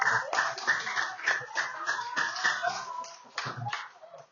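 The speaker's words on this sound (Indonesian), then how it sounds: "Tepuk tangan untuk mereka berempat." A group of students claps for four classmates during a classroom lesson, a run of sharp, fairly quick hand claps at close range, uneven in rhythm, with a raised voice and some chatter mixed in.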